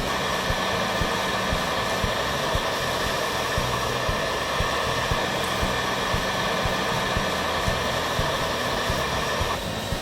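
A heat gun blows steadily while shrinking heat shrink tubing over wiring under a vehicle hood, a constant loud airy hiss with a faint low hum and no talking.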